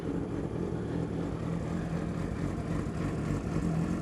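A cold motorcycle engine with a ticking fault runs at a steady idle, a close, continuous low rumble with no voices.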